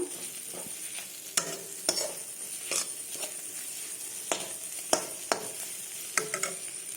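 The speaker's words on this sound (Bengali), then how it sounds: "তো এগুলো একটু কষিয়ে নেব ভুজিয়াগুলো।" Fried egg bhujia pieces being stirred and sautéed in a spice mix in a pan, with steady low sizzling and repeated sharp scraping clicks from the spoon at irregular intervals, close and alone.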